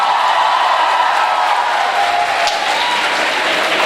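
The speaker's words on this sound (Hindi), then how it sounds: "और अपने लिए ज़रा एक बार अच्छी सी तालियां ज़रा बजाइए।" Loud, sustained applause from a university audience at a mushaira in Karachi, a dense wash of clapping with a few faint whoops and a tonal hum running beneath it.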